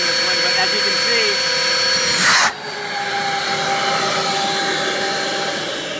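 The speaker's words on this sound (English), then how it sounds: "suction power of the new CFX with the ZX vac motors is phenomenal" A Rotovac CFX portable carpet extractor with ZX vacuum motors runs with a loud, steady roaring whine. The tone shifts abruptly partway through, then settles into a slightly lower, continuous drone.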